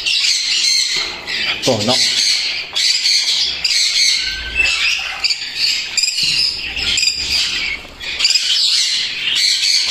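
Budgerigar chicks in a nest squawk loudly and almost without pause, a close, shrill chorus of rasping calls and chirps, while someone speaks briefly nearby.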